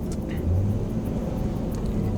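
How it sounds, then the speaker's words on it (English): Infiniti G35 coupe engine rumbling steadily in manual mode, a deep continuous drone with a brief rising pitch swell around a downshift, close and fairly loud with no talking. "when I downshift that, I want to hear that, you know what I mean? Like that sound"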